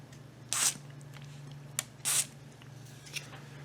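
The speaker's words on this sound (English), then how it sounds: "Give it a little spray" Two short hissing bursts of DeoxIT contact cleaner sprayed into a synthesizer potentiometer on a Polivoks synth, close and crisp, followed by faint clicks over a steady low hum.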